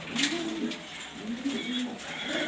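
Soft, low pigeon coos repeat in short rolling phrases, close by, with faint rustling and occasional higher chirps in the background.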